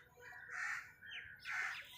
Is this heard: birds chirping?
yes